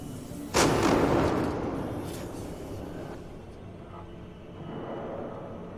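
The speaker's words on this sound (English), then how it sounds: "Yeah, they're shooting." Gunfire in the Alien: Isolation video game sounds as one loud, booming shot followed by a long rumbling decay, then a low ambient hum with faint distant noises.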